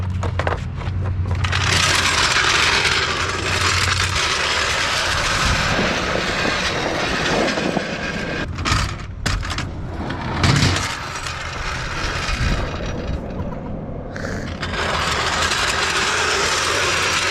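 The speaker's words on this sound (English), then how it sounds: "How many people can say they've skated their jack at a skate park?" Steady rolling grind of a 3-ton floor jack's wheels ridden across concrete at a skate park, continuous and fairly loud, with brief bumps and rattles midway.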